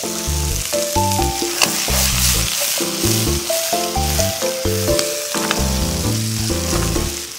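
Loud, continuous sizzling of vegetables frying in a hot pan for a curry rice dish, with music playing alongside.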